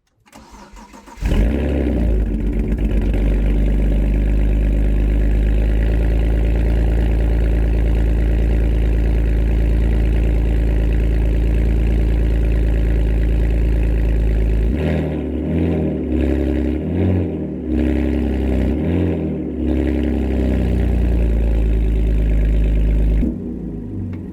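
Car engine fitted with straight pipe exhaust, cold-started after a dead battery was recharged: a starter crank, then the engine catches and idles loudly and steadily, with a few uneven pulses and blips midway through, no talking.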